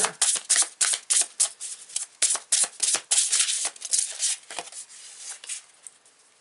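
Tarot cards shuffled by hand in a quick run of crisp riffling bursts, close and fairly loud, tapering off toward the end, with no talking.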